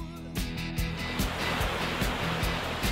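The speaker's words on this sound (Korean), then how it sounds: "시원한 파도 소리에 어느새 더위는 저만치 물러가고" Ocean waves break on the shore at Sokcho beach in steady washing surges, loud and close, with repeated pulses of surf and no talk.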